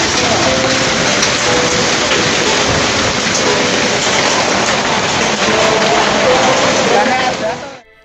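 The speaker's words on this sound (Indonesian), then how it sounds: "Hujan es di Semarang." Hail pouring down during a storm in Semarang, a dense, steady roar of ice striking surfaces that holds loud and unbroken for several seconds before cutting off.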